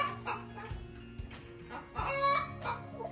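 Hens in a barn cluck and murmur softly at close range, with a few louder squawky calls rising over the low, continuous chatter of the flock.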